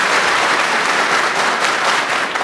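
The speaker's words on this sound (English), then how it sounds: "We're going to do more than 3 claps." Soldiers and families applauding at an Army 19D OSUT cavalry graduation ceremony at Fort Knox, Kentucky; a dense, loud, steady burst of clapping from a large crowd.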